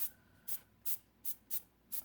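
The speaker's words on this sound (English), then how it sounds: "when you put this nib in, it gives you a splatter effect instead of a finer spray" Copic airbrush fitted with a splatter nib, spraying Brusho: six short, sharp hissing spurts at an uneven rhythm, close and fairly quiet, separated by brief gaps of soft background noise.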